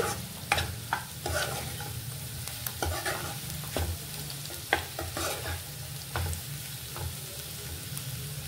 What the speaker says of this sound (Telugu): ఆ ఫ్లేవర్ అంతా కర్రీకి పట్టాలంటే ఒక 2 మినిట్స్ ఇలా కొంచెం ఫ్రై చేసుకోవాలి